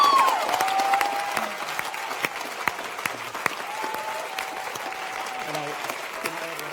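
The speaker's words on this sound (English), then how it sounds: "I think all of us deserve a good applause" An audience at the FameLab International 2016 science-communication final gives sustained applause, a dense crackle of many hands with scattered sharper claps and faint voices and tones beneath, fading slightly toward the end.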